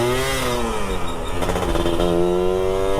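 A two-stroke motorcycle engine revs at a road race, its pitch rising and falling in loud, raspy surges with clattering overtones, close and continuous.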